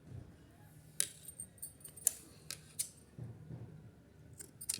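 Scissors snip wool thread during hand knitting of a small woollen dress, a handful of crisp metallic clicks spaced irregularly, quiet and close in a hushed room.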